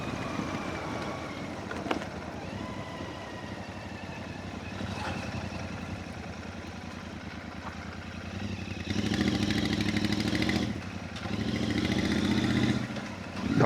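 Motorcycle engine on a road ride, pulling hard through third gear: a steady mid-pitched drone with rising harmonics that swells louder near the end, continuous and fairly close without talk.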